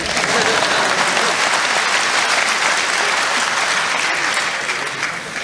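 A large graduation audience at ITB claps steadily in sustained, dense applause that holds at full strength for several seconds before easing slightly near the end.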